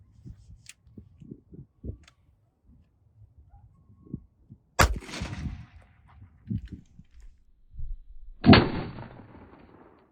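A Canik 9mm pistol fires 124 grain HST rounds into ballistic gel outdoors. Two sharp, loud reports a few seconds apart stand out against faint low murmurs and soft knocks.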